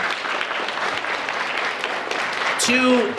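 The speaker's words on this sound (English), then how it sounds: "let's acknowledge them with a big round of applause." A school audience at a National Honor Society induction claps in a full, steady round of applause that fills the hall from start to finish, with a brief voice rising near the end.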